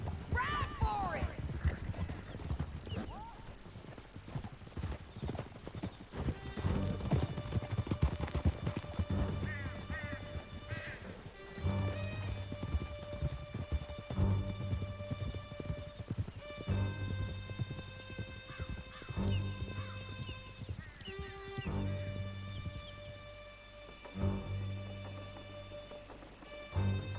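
Horses gallop in Red Dead Redemption 2, a dense, fast clip-clop of hooves running through the whole stretch with an occasional whinny, mixed with voices talking and sustained musical tones.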